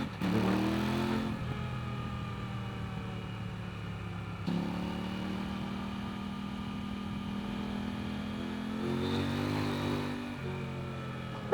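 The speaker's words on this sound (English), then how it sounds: "What's that wheel spin there?" A 2025 Kove 800X Rally adventure motorcycle on a trail, its engine rising in pitch as the rear wheel spins, then surging again with a steady loud drone and a brief throttle blip near the end.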